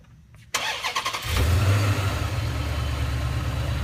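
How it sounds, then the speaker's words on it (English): A supercharged, modified 2014 Dodge Charger SRT8 V8 starts remotely after a short quiet pause, the starter catching into a loud bark, then a deep rumble that settles into a steady, close idle. "Go ahead and lock the car twice for a start."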